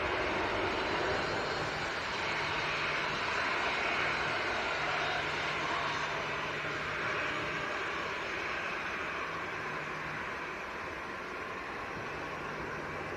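A Lufthansa Airbus A321 jet passes at Manchester Airport, its engines a steady, distant roar that fades slightly toward the end, with a faint low hum pulsing underneath and no one talking.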